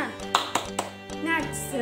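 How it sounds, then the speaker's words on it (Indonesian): A scout leader at a Pramuka Siaga training demonstrates a rhythmic spirit clap. Three quick, sharp hand claps come close together, followed by talking and chanting. "mari kita tepuk semangat dulu"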